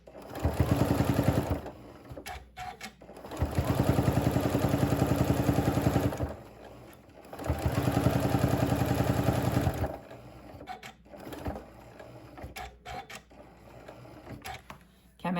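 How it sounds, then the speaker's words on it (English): A home sewing machine stitches a quarter-inch seam on charm-pack quilt fabric, whirring in three steady, fast-running bursts of a few seconds each, separated by quiet pauses and small handling clicks, close and fairly loud with no talking. "I'll sew that same 1/4 inch all the way down"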